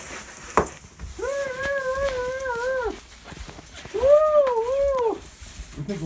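A dog whimpers close by in two long, wavering, high-pitched whines, each lasting a couple of seconds, with brief rustling between them.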